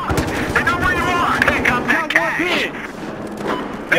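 Gunfire and explosions in the video game Battlefield Hardline, a dense, continuous clatter of shots and thumps with swooping electronic effects, mixed under people talking.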